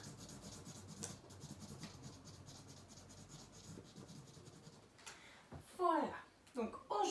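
A crayon rubs back and forth across a page as a child colours it in, soft close scratchy strokes in a steady rhythm, followed by a few brighter squeaky marks near the end.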